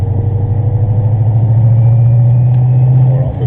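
Supercharged Mustang on a track, its engine droning loud and steady with a deep hum, building only gradually, with no voices.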